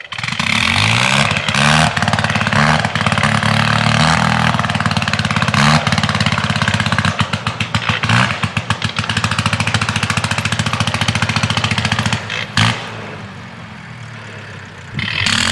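Vintage airplane rotary engine at an aerodrome airshow, lubricated with castor oil, fires up and runs with a loud, rough, rapid beat that stutters near the end before cutting out briefly and catching again.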